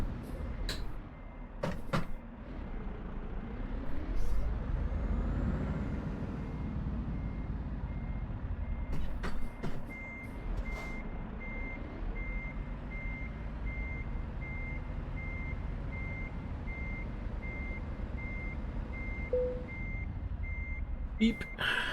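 A truck reversing in Euro Truck Simulator 2 gives off a steady series of evenly spaced electronic beeps over continuous engine rumble and road noise, with a few sharp clicks along the way.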